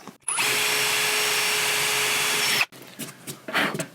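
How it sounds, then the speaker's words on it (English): A drill driver bores a pilot hole through wood for a guitar hanging rack, one steady loud whir of just over two seconds that stops abruptly, followed by faint handling noises. "I'm going to use my drill driver to drill a pilot hole just through the wood"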